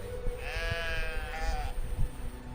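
Sheep bleating in a video game, a single drawn-out quavering bleat in the middle of the moment, moderately loud over a low background hum with no talk.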